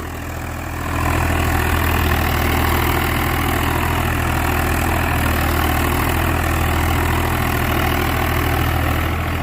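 A Swaraj 855 tractor fitted with new 14.9-28 tyres idles steadily nearby, a loud, constant low diesel rumble that rises slightly in the first second and then holds even, with no talking.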